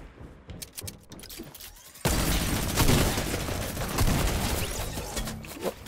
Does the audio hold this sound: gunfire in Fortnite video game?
yes